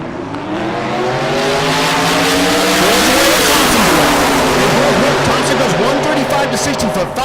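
A nitrous-assisted turbocharged drag race car at Bandimere, Rocky Mountain Race Week, makes a loud, sustained full-throttle pass with rising, sweeping engine tones. A commentator talks over the roar throughout.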